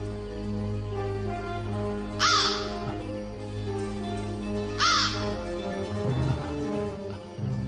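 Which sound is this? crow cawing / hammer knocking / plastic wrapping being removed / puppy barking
crow cawing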